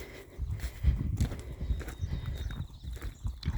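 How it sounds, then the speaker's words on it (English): Hooves clop irregularly on hard ground, close and fairly quiet, with a few scuffs between steps. "Right now there's only one horse in there."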